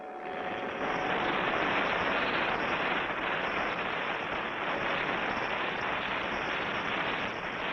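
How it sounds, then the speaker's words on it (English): A wind-up folding model airplane flies in a cartoon, its engine a steady, loud buzzing drone that holds unbroken from start to finish. "Your folding model airplane. Here it is, Clutch. Wind it up and let it go."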